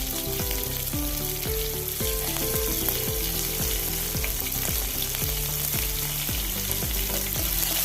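Ginger, garlic and sliced green chillies sizzle steadily in a hot pan, stirred as they fry, with a dense continuous crackle under a regular tapping pattern, close and fairly loud with no talk.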